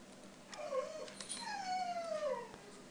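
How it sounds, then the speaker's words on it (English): A dog gives two whining, drawn-out whimpers, the second longer and sliding downward, faint and alone over low background noise. "It's my dog."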